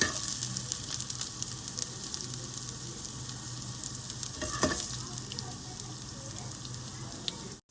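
Garlic frying in oil for a tomato garlic chutney, a steady close sizzle with light stirring and one brief louder scrape midway, no voices.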